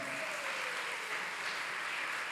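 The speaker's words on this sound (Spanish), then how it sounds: "Yo le daría un aplauso gigantesco al Señor." A church congregation applauds, a soft, even wash of clapping heard from a distance, steady and continuous with no voices standing out.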